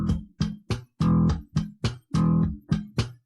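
An electric bass plays a sharp rhythmic pattern of left-hand muted string clicks alternating with short plucked notes, about ten crisp hits, heard alone.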